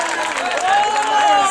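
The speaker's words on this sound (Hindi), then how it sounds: "एक जोरदार ताली" Audience applause and cheering at an Urdu mushaira poetry recital, a dense crowd of clapping that swells in the second half, with tonal chatter and voices mixed in.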